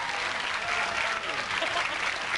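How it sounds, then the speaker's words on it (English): Studio audience applause on a game show, a loud, continuous roar of clapping from a large crowd, with some voices underneath. "a round of applause"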